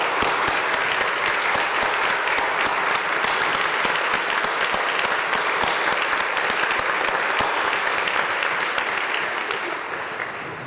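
A large audience gives a full, sustained round of applause for current and retired faculty at a Shippensburg University presidential inauguration, dense and even throughout before fading slightly at the end.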